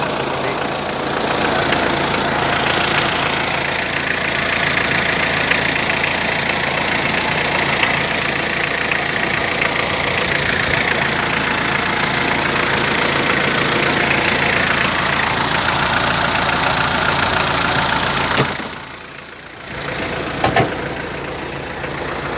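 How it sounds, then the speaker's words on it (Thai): A used truck in original condition idles with a loud, steady, close diesel rumble and knock that drops away briefly near the end before picking up again. "เครื่องจักร"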